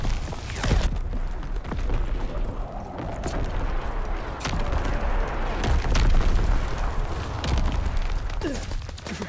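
Incoming enemy artillery in a Call of Duty match sets off repeated booming blasts, some close and sharp and others farther off, bursting at irregular intervals over a continuous rumble of battle.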